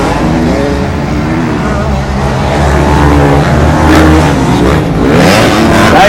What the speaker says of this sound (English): We got Dustin Schneebly also out there aboard his Husqvarna.